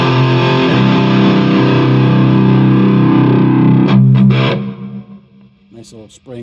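Electric guitar through a Blackstar Silverline Deluxe 100-watt head on a crunch setting with spring reverb, sustained distorted chords ringing loudly, then cutting off into a trailing reverb tail and a few quieter picked notes.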